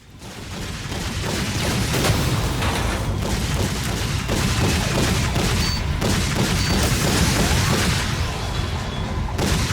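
A constant barrage of covering fire and explosions in the first-person VR shooter Damaged Core, with a dense roar of overlapping gunshots and deep rumbling booms held at high volume for the whole stretch, and no voices.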